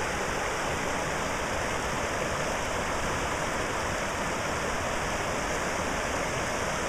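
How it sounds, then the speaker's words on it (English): A river on the Tokke flows in a loud, steady rush of water, a constant broadband wash that stays unchanged from start to finish with no voices. "Here's the river one more time."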